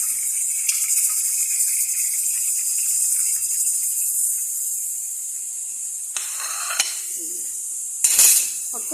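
Constant hissing and bubbling of a pot on the boil, with a few clinks of utensils and a sharper rustle near the end.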